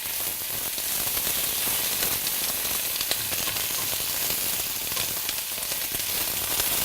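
Onions sizzle and fry steadily in hot spice-infused oil, a dense, continuous crackling hiss that stays close and loud throughout with no talking.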